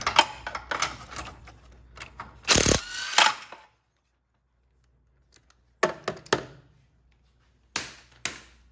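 Three size 12 bolts come off the tops of a vehicle's front suspension struts, with sharp ratcheting and metallic clicks in quick bursts, a louder whirring burst, then a silence and scattered close clicks.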